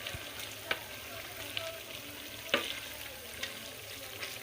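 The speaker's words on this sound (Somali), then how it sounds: "hada saan la soo shiilaya wax kale kuma daray" Food frying in a pan with a steady, quiet sizzle, broken by a few sharp crackles and pops at irregular intervals, with no talking.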